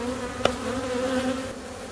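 Swarm of honeybees being caught on a cool, damp day, a continuous close drone with a steady pitched hum and one brief louder buzz passing near, no talking.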